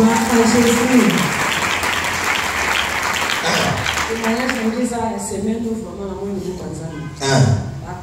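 A church congregation claps along during a morning prayer gathering, with steady, dense applause that continues under loud singing and speaking voices throughout.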